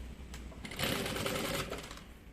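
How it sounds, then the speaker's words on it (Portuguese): Sewing machine stitching the seam of a fabric bag, a close, steady mechanical whir that speeds up into a continuous run after a brief start, then slows near the end. "Eu já vou costurar aqui direto, ó, meio da parte de baixo com o meio do vivo."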